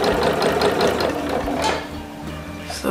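Close, loud sewing machine running steadily as it stitches fabric in a straight seam, with a rapid mechanical clatter that slows briefly before continuing.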